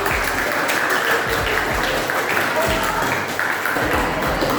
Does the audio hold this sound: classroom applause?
yes